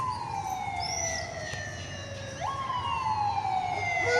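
A police siren wails with a rising and falling tone, moderately loud and a little distant, sustained throughout with no talking.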